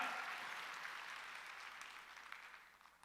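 Congregation clapping during a Wednesday church worship service, a steady patter of many hands heard fairly faintly and slowly fading over a few seconds.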